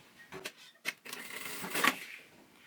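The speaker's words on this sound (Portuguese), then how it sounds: "E também vou fazer uma costura bem na beiradinha." A sewing machine stitches along the edge of fabric for a zippered multi-pocket toiletry bag, in short mechanical bursts that build into a longer run of stitching near the end.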